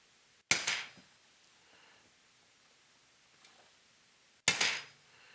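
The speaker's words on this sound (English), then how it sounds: "And so now we come back with our center punch" A center punch is struck with a hammer to mark a steel amplifier chassis, giving two sharp metallic strikes about four seconds apart with a faint tap between them, close and loud in an otherwise quiet room.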